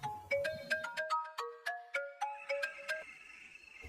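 A melodic phone ringtone plays a quick run of bright, chiming notes, repeating steadily and fairly loud with no talking.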